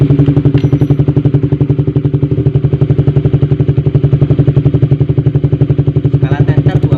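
A Honda CB150R motorcycle engine runs steadily after being started, a loud close rapid even thrum with some mechanical clatter, and no voices over it.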